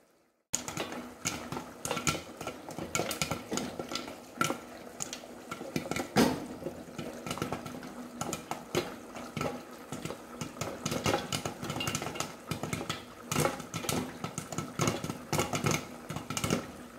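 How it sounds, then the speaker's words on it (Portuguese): Popcorn being stirred in a pot with sugar and oil gives repeated close scraping and rattling clatter with steady frying hiss, with no talk. "Mexendo pra não queimar, porque lá tem açúcar e óleo, né?"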